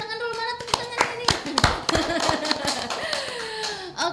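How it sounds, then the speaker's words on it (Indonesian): Scattered hand claps from a small audience at a community gathering, a handful of sharp separate claps near the mic rather than full applause, with voices talking over them. "Oke, tepuk tangan dulu, mana tepuk tangan ini?"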